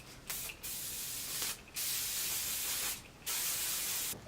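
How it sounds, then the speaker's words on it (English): Hairspray is misted onto freshly curled hair in three close, loud hissing bursts, each lasting about a second or more, with brief pauses between them and no talking. "Alright, so I'm going to go ahead and spray those"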